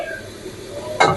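Meat fries and gets stirred in a pan for a Shab-e-Barat halwa, roti and meat meal, a soft sizzle under scraping stirs, ending with a louder burst of scraping and sizzle.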